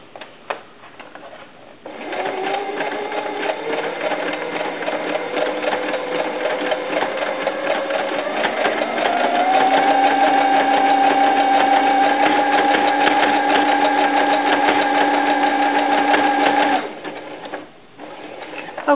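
A sewing machine runs steadily, stitching doll dress fabric with a continuous mechanical whir that starts after a brief pause, holds a sustained tone, rises slightly midway, then stops near the end.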